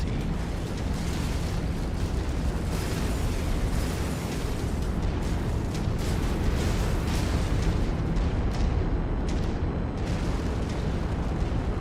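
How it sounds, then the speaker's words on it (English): Dense, continuous gunfire and missile explosions from battling mechs in MechWarrior 5: Mercenaries, loud and close. Heavy booming blasts overlap with rapid shots for the whole stretch, with no let-up. "Why do I hear shooting? Missiles."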